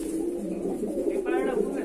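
Madrasi pigeons in a loft in Shyamnagar give soft, low cooing in a short burst, fairly close, with a faint voice in the background.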